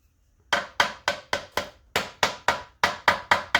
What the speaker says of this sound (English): Tap the compressor first